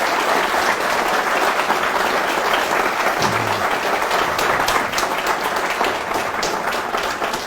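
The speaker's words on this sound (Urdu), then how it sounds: "ایک زوردار تالی" Audience applause at a talent management training workshop, a loud, sustained burst of clapping from a crowd that fills the whole stretch without talk.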